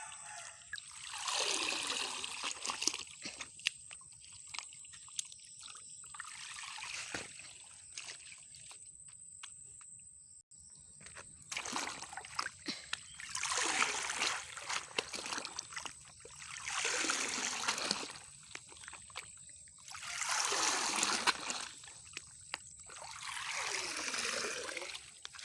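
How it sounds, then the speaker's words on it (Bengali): Vegetables and taro leaves washed by hand in a pond, with repeated waves of splashing and sloshing water every few seconds, close by, separated by quieter stretches of trickling and ambient outdoor hum. "এখন এটা আমরা পুকুরে চলে আসছি। এখন এগুলো ধুয়ে নিব।"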